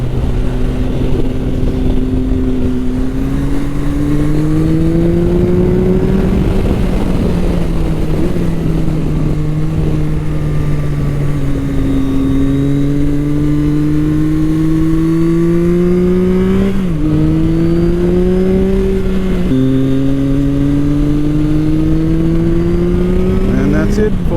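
A Triumph Sport 660 motorcycle on a race track at a track day, its engine droning loud and continuous as the pitch rises and falls through gear changes and throttle shifts.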